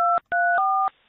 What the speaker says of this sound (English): they will be required to enter a PIN number and then they join